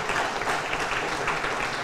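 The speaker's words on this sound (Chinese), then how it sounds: "我们再次掌声感谢肖副总统为我们带来精彩分享" Audience applauding after a lecture in a hall, a steady, dense patter of clapping held at an even level through a short stretch.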